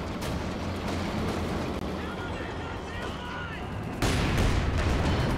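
A grenade blast and gunfire from a real-time strategy war game burst out in a dense, rumbling wall of explosions and shots, with a sharp louder impact partway through and commentary talking over the din.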